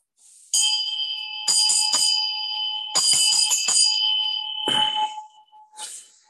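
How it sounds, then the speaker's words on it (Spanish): A bell rings clearly several times in separate bursts, each strike leaving a long sustained ringing tone, with the last strikes fainter and shorter. "Dicen que sonar una campana es de buena suerte."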